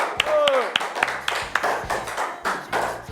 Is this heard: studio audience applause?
yes